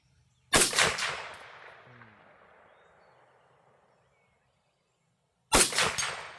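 A Fulton Armory M1 Carbine rifle is fired outdoors, with two loud, sharp reports about five seconds apart, each followed by a decaying echo into quiet.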